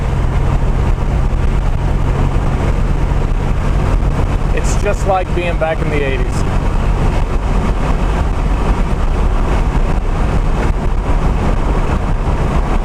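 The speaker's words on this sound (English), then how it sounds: "I'm driving along at an indicated 55 miles per hour. The exhaust note is absolutely sublime." A Buick Regal Grand National cruises at about 55 mph, its exhaust a steady low drone heard from inside the car, mixed with road and wind noise while someone talks over it.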